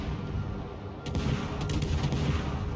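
Naval ship guns fire in a video game, a quick cluster of sharp booms breaking over a steady low rumble of battle, with further shots landing near the end and no talking.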